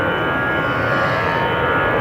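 A 19-year-old Airbus A320 jet departing Amsterdam Schiphol for Dublin, a loud, steady broadband engine roar with a constant whine, close and unbroken, with no voices.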